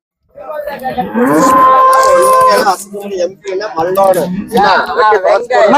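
Cattle low at a Friday cattle market in Chinapuram, Erode, with a long, loud moo up close, followed by people talking over the busy market.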